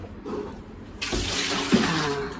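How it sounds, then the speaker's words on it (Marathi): Bird meat is rinsed under a running tap, a quiet start giving way to a sudden steady gush of water splashing in a sink, close and continuous. "अजून आपण एक पाण्याने धुवून टाकूया बाहेरचं"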